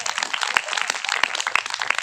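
Audience at a Telugu Christian sermon clapping loudly, a dense, steady patter of many hands with a few sharper claps standing out, no voices over it.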